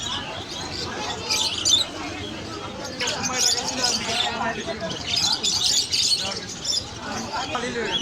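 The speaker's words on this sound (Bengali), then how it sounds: "সব ভেরিয়েন্টের পাখি ওনার কাছে রয়েছে" Caged birds, including lovebirds, at the Mirpur bird market in Dhaka, giving clusters of high, thin chirps in scattered bursts over a murmur of nearby voices and market bustle.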